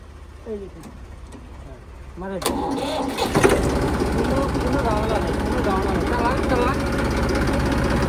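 An old tractor engine cranks a few times, catches with a loud burst and settles into a steady, rough idle, with people talking nearby.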